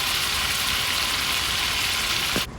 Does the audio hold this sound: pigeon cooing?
no